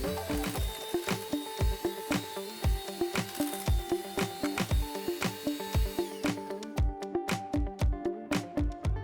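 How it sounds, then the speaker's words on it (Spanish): Electric hand mixer beating butter for a profiterole filling, a steady motor whir with rapid repeated knocks and rattles as the beaters strike the bowl, close and continuous with no talking. "Comenzamos a batir la mantequilla"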